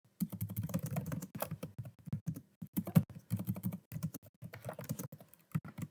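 Rapid typing on a computer keyboard as a question is entered, close and clear, with irregular bursts of key clicks and brief pauses between words.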